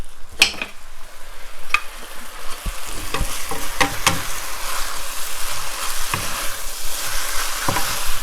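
Kimchi noodles stir-fried in a pan, with a steady close sizzle and repeated scraping and tossing strokes throughout, and no talking.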